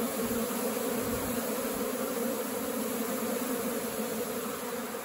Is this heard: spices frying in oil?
no